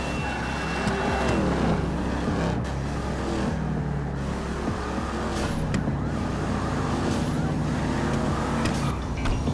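An armored vehicle driving in GTA Online produces a continuous, steady engine rumble with road noise that holds at a constant level throughout, with no voices.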